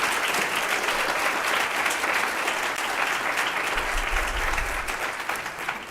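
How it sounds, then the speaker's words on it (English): A crowd at a swearing-in ceremony for newly elected officials gives a sustained round of applause, dense and even clapping throughout that tapers slightly at the end, with no voices over it. "Please join me in another round of applause for all of them."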